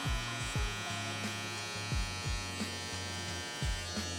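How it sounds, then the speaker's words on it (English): Electric hair clippers buzz steadily up close while fading a low taper haircut, with repeated short strokes and brief swells as the blade corners work the hairline. "I'm using the corners of my clipper"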